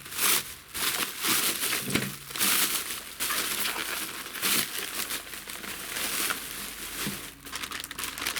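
Plastic packaging of a parcel crinkles and rustles loudly in repeated bursts as it is handled and pulled open, close by.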